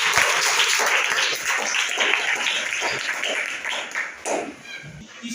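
Students in a classroom clapping loudly together, a dense sustained burst of applause that carries on for several seconds before thinning out, with some voices mixed in.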